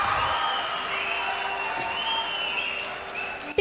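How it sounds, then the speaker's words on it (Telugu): Sustained applause from a large audience at an award ceremony in a hall, a dense, even wash of clapping that holds steady throughout and swells slightly near the end. "అందుకే మన హర్షాతిరేకాన్ని సుదీర్ఘమైన కరతాళ ధ్వనులతో వెల్లడించుకుందాం మరొకసారి"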